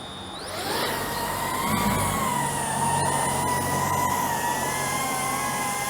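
A DJI Avata 2 drone fitted with an upgrade flies steadily, its propellers giving a continuous tonal whine that rises in pitch as it spools up, then holds level and fairly loud with a broad airy hiss beneath.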